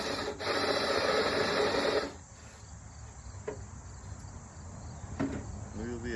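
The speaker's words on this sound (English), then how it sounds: "so we'll just drill this one in a little bit more" A power drill drives into a reclaimed wood candle holder in a loud two-second whirring burst, then stops, leaving quiet room noise with a few faint clicks and a brief voice at the end.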